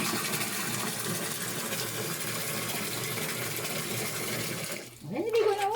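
Water runs and splashes steadily close by while a cat is bathed, a continuous gushing wash that cuts off near the end, and then a cat's meow rises.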